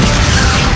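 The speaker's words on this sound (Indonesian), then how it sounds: "ia sempat menebarkan bubuk mesiu hingga ledakan bisa membebaskan" In an anime, an explosion of scattered gunpowder sets off a loud, dense, rumbling boom that fills the whole short moment with heavy low-end blast noise.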